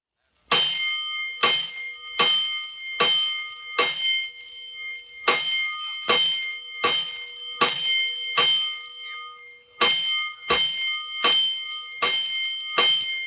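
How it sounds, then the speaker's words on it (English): Fire alarm bells in a 1949 radio drama clang in regular repeated strokes, about fifteen loud metallic rings in groups, each ringing out briefly before the next. "A 5-alarm fire. 5 bells."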